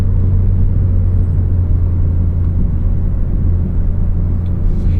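Low, steady exhaust rumble from a 2023 BMW M3 G80 manual with the exhaust dump valve open, heard from inside the car while cruising slowly; a constant deep drone with no revving, loud and unbroken, no talking.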